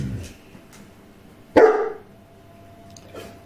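A single loud, sharp dog bark rings out nearby indoors, with a brief tail, followed by quiet room noise and a faint later sound.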